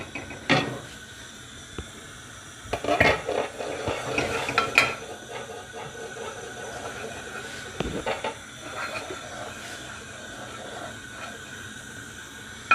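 Minced pork and bamboo shoots stir-fry in oil, giving a steady low sizzle with scraping and clinking of a utensil against the pan, louder stirring bursts early on and calmer frying after.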